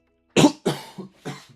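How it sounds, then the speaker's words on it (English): A single person coughs sharply several times in quick succession, close and fairly loud, with the bursts tapering off toward the end. "Excuse me for that cough."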